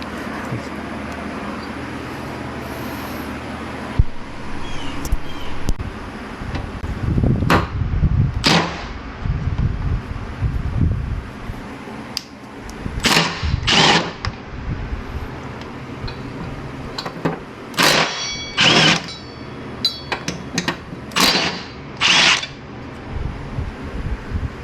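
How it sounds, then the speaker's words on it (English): Bolts being worked loose from the spindle on a Toro TimeCutter MX 5025 mower deck, with sharp metallic clicks, ratchet ticks and clanks arriving in irregular bursts, close and fairly loud, without speech. "we're going to be removing these bolts right here"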